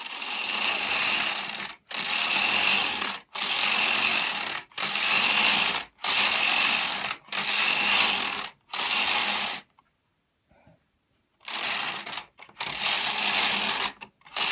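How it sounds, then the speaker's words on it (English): Knitting machine carriage pushed back and forth across the needle bed to knit plain rows of yarn, each pass a loud, steady rasping whoosh lasting about a second, repeated in a regular rhythm with short gaps and one longer pause. "So I'll just knit a few rows and take it off the machine."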